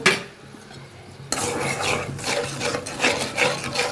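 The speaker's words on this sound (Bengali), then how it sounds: "মশলাটা ভালোভাবে কষিয়ে নিব" Chili and coriander powder masala is scraped and stirred in a pan, sounding as rough rasping strokes that start abruptly after a quiet moment and continue in an uneven rhythm, close and fairly loud.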